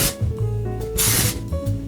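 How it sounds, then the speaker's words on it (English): Non-stick cooking spray hisses from a can onto a baking sheet in several short bursts, the longest near the middle, close and fairly loud. "we wanna spray it down with some non-cooking spray."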